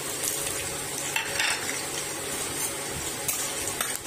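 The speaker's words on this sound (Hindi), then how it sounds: "कड़े में तेल गरम कर पंचफुटन टे फुटेदेव" Panch phoron spices crackle in hot mustard oil in a kadai while an Odia greens dish is prepared, giving a steady dense sizzle with scattered sharp pops and faint stirring clinks, close and continuous with no talking.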